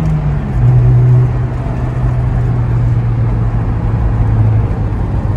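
A 2007 Toyota Innova 2.0 car driving fast, its engine and road noise a steady loud hum throughout, with a brief swell near the start and no talk.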